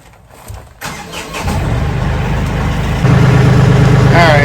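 A tractor engine idles steadily at close range, its low throbbing rumble climbing as the machine is rolled forward, with a brief clunk near the start and a short squeal at the end.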